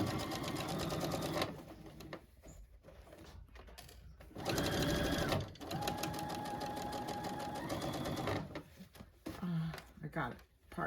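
A sewing machine stitches along the edge of fabric in a sewing lesson, a close, rapid mechanical whirr in several bursts of a few seconds, stopping and starting, with a person talking during the pauses.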